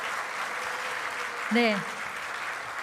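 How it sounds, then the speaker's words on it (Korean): A church congregation applauds its teachers with steady, sustained clapping that fills the room, and a voice speaks a single short word partway through. "우리 그동안 고생했던 우리 선생님들께 교육자들께 감사의 박수를 했으면 좋겠습니다."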